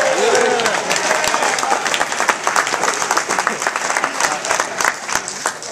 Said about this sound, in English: Already I'm getting applause.